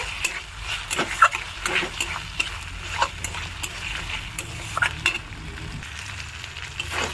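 Ground peanut paste being sautéed in a pan for a Bengali palak chicken gravy, giving a soft continuous sizzle broken by scraping stirs and small clicks, close by, with no talking.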